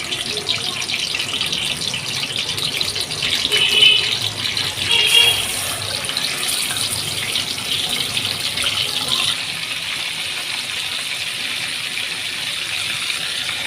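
Marinated chicken pieces sizzle and fry in a pan, producing a steady, close hiss that swells briefly around the fourth and fifth seconds, with faint rattles.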